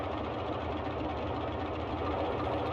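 The left engine of a Boeing 247D airliner idles near 1200 RPM in Microsoft Flight Simulator, making a steady, loud, close piston drone that throbs evenly with no speech over it.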